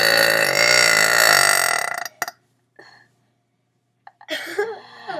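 A long, loud, deep burp rumbles close to the mic. It is followed by a few faint breaths and small sounds, then a short burst of voice at the end.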